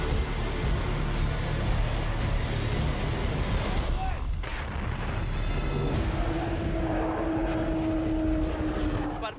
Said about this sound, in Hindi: परमाणु बम से लैस पुतिन के फाइटर जेट फिनलैंड के पास आसमान में चक्कर लगाकर लौट आए